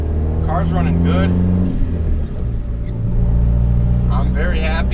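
A turbocharged Honda Accord engine droning from inside the cabin, a loud continuous low rumble that shifts pitch midway and swells again, with a person talking over it.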